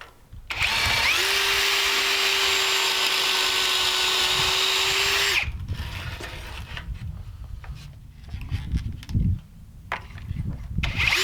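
A power drill whines steadily for about five seconds at close range drilling pocket holes in workbench top pieces, then stops, leaving quieter handling noises and low shuffling.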